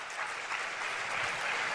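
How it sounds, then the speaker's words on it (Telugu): A church congregation claps together in a sustained burst of applause, a dense, even wash of hand claps heard at moderate distance. "గట్టిగా చప్పట్లు కొట్టండి."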